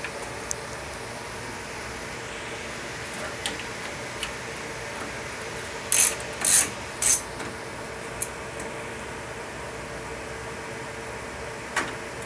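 A ratchet wrench loosening the last bolt on a center mount gives three quick sharp clicking bursts close by, with scattered faint ticks before and after over a steady hum.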